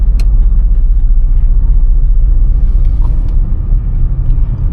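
An automatic car drives slowly through traffic on a single road, giving a steady low engine and road rumble heard from inside the cabin, loud and continuous with no talk.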